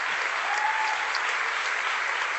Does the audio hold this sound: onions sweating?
no